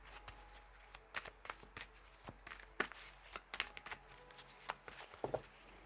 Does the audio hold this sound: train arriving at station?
no